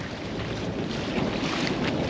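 Sailboat motoring under engine into a headwind at sea, a dense steady roar of wind and water rush with engine drone beneath, continuous and close with no voices.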